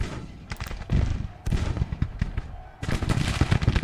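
Artillery and gunfire from a Civil War battle in the game Grand Tactician: The Civil War crack and boom in a dense, irregular barrage of cannon thuds and rifle shots, loud and continuous throughout.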